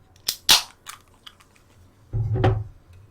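A can of cola cracked open near the microphone: a sharp pop and hiss of gas, a few small metallic clicks, then a short fizzing pour, with no talking.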